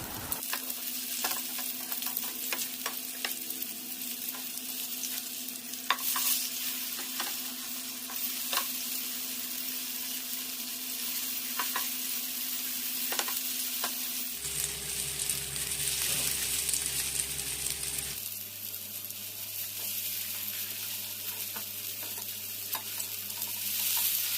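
Kingfish (surmai) pieces fry in oil with crushed garlic, a steady close sizzle that runs throughout, with a change in tone partway through as the pieces are flipped.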